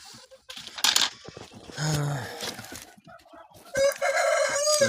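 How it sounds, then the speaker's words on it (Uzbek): A Lakenfelder rooster crows loudly and close, with several drawn-out calls broken by short pauses and some clucking from other fowl nearby. "Lakenfelder xo'rozimiz, juda chiroyli xo'roz"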